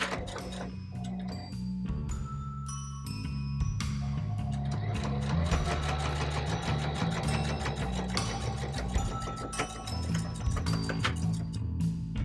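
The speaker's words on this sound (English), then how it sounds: "secure those down with a flat seam and plenty of backstitching" Sewing machine stitching a flat seam on an elastic sleeve of a fabric mask with backstitching, a close rapid mechanical ticking and whir that speeds up and pauses, with no talking.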